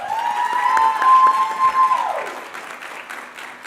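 Applause from an awards ceremony audience, a brief burst of clapping that fades out over a few seconds, with a sustained tonal ringing over it.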